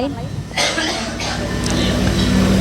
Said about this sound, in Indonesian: kayaknya tadi sudah kode-kode pakai batuk